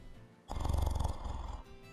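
A voice imitates snoring with a rough, rhythmic rattling grunt that pulses steadily for about a second, loud and close, alone.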